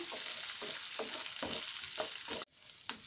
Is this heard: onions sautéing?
yes